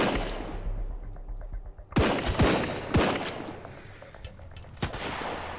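Heavy machine gun fire in Sunkenland comes as sharp bursts and single cracks, loud and close, with a couple of louder reports standing out over a rumbling battle background.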